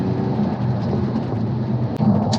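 Audi S5 Sportback Black Edition from 2015 with a 3-litre petrol V6, its exhaust giving a steady, loud low rumble that holds evenly throughout, with no talking over it.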